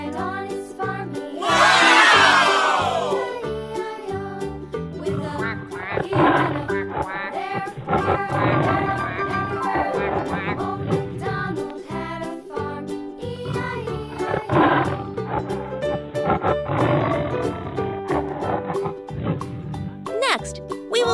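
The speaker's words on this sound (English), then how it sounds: "Its roar echoes throughout the green forest" A tiger's roar bursts out loudly near the start, then fades under steady background music and a narrator's voice that carries on through the rest.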